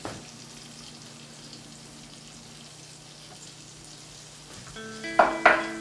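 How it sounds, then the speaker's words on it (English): A Cajun onion, garlic and shallot mixture with fish stock and breadcrumbs sautéing in a pan, a low steady sizzle followed by a couple of sharp utensil clinks at the end, close and with no talking. "we're gonna saute it for a couple of minutes here"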